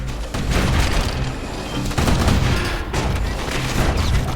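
Guns on a security skiff in the Bastion game open up in dense, loud rattling volleys, the firing continuous and close for several seconds with booming blasts mixed in.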